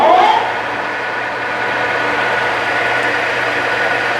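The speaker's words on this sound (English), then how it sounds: "And now we're gonna be at 540 RPM." A heavy-duty 2011 Supertec 22 x 60 inch engine lathe, model 2260, runs its headstock at 540 RPM, a steady even mechanical hum with a faint low drone, close and constant, with no talking.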